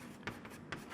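Marker or chalk writing on a board during a physics lecture, with two brief scratchy strokes over a quiet room.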